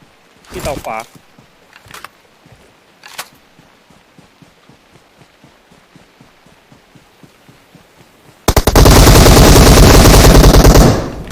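PUBG Mobile gameplay: a few sharp isolated shots early on, then quiet with faint rhythmic thumps, and finally a loud sustained burst of rapid automatic gunfire near the end.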